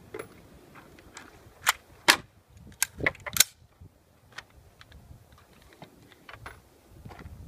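An LWRC M6A2 rifle fires a scattered run of sharp, irregular reports, some crisp and loud, others softer, with gaps between them as the gun stutters and misfires.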